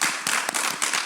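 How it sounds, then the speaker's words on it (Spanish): A studio podcast audience gives a short burst of dense, close clapping for a guest. "Un aplauso todo aquí para la Angie."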